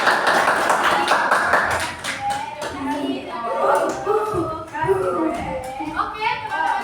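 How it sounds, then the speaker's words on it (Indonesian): A primary school class claps for group 4 in a fast burst of close, bright handclaps that fades after about two seconds, followed by children's chatter and voices. "Kita beri tepuk tangan untuk kelompok 4."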